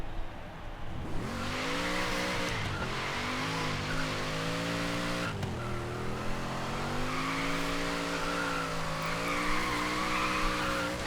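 Forza Horizon 3 car drifting without drift suspension, tires squealing continuously over a steady revving engine drone, loud and close throughout.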